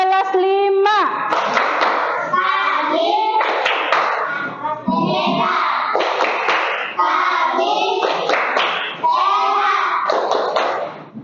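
A fifth-grade class chants together in a classroom and claps its hands in rhythm. The children's voices and sharp, repeated clapping bursts stay loud and close for the whole stretch.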